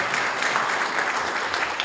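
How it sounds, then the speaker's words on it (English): Audience applause for the mayor at a community volunteer awards event, a brief, steady burst of many hands clapping close and fairly loud. "give her another round of applause"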